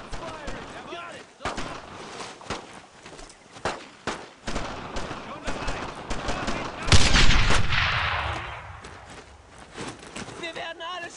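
Dense gunfire in the World War II shooter Brothers in Arms: Road to Hill 30, with rapid rifle and machine-gun bursts and a heavy explosion-like blast midway, while soldiers shout orders over the battle.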